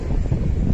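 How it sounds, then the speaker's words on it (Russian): A light outdoor breeze buffets the microphone in a brief, low, rumbling gust that stays steady and close throughout. "Небольшой ветер у нас."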